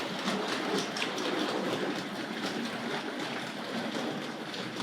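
A Hornby 00 gauge model train runs along its track with a steady close rattling rumble, light rhythmic clicks repeating over the continuous whir of the small motor.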